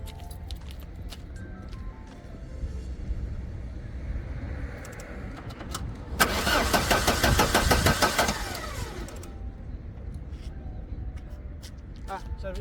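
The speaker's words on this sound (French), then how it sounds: "on va démarrer un petit coup le moulin" A diesel engine with an injection pump is cranked for about two seconds, a loud rattling churn over a steady low rumble, then the clatter fades back into the background hum.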